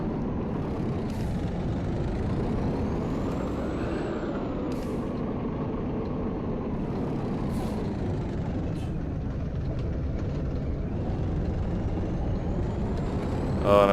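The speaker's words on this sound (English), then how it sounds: "this bus sounds horrific" A coach bus in Euro Coach Simulator gives a loud steady engine drone that rises and falls, with several sharp air brake hisses and a short burst at the end.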